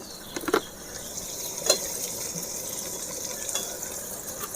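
Ginger paste and chopped tomato fry in oil after garlic for a light bata fish curry, giving a low, steady sizzle with a few brief stirring knocks and clinks on top.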